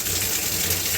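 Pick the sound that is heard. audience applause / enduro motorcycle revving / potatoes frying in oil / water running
water running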